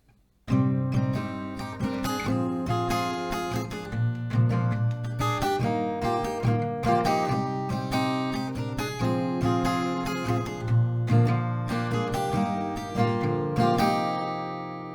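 Acoustic guitar plays a strummed pattern of a song with picked melody notes, steady rhythm and full, close sound throughout, no voices.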